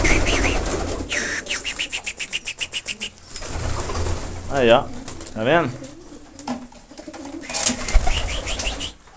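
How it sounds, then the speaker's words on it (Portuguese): A flock of pigeons returning after heavy rain, with soft cooing and bursts of wing flapping close by, heard under someone talking on and off. "Os pombos estão voltando tudo pra cá, ó."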